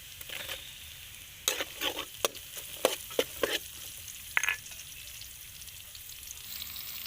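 Garlic and lemongrass fry in hot oil for village-style fried chicken, a steady sizzle with sharp crackles and stirring scrapes bunched in the middle, close and fairly loud.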